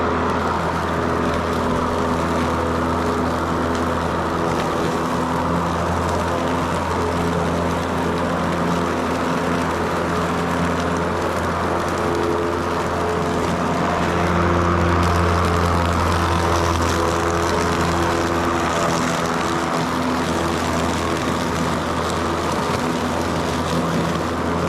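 A Ryobi push mower's engine running loud and close, a continuous buzzing drone that holds steady throughout without reaching its higher revs.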